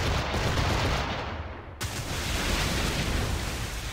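Ship cannons firing at sea in Assassin's Creed 4 Black Flag, a dense, loud roar of gunfire and booms that fills the whole stretch with a brief dip midway.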